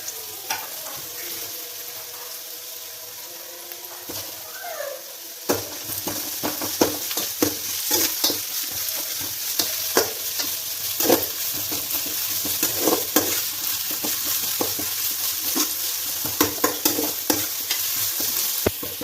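Onions frying in a pan for biryani, stirred repeatedly so that scraping, clattering strokes break through a constant close sizzle, with no talking.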